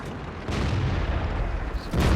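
A tank cannon shot in the World of Tanks video game: heavy, booming game-combat noise with a broad low rumble that swells around the half-second mark and again near the end, with no voices.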